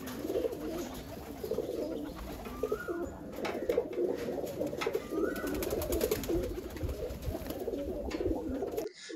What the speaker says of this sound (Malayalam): ഇതിലിപ്പോ ഇത്രയും പ്രാവുകളെ നമുക്ക് കണ്ട്